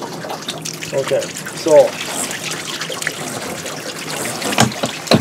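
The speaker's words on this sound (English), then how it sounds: "So now the water is starting to come in the tub" Water trickles steadily from a faucet into a bathtub, a soft continuous running splash with a brief voice speaking over it near the start and scattered handling knocks toward the end.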